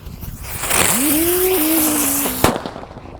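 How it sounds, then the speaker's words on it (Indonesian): A rotator firecracker, a spinning top-style banger, fizzes loudly with a rising then slowly falling whistling whine as it spins for about two seconds. It ends in a sharp pop, followed by fading crackle. "Lanjut di sini ada mercon rotator, ini bisa mutar seperti gangsing guys."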